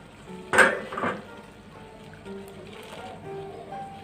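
A metal pot clatters with a couple of clanks near the start as fish heads are added, followed by a soft, steady bubbling and sizzling.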